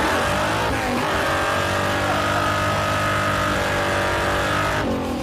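Mopar or Ford muscle truck accelerating hard on asphalt, a loud sustained engine roar climbing steadily in pitch for several seconds before easing off near the end.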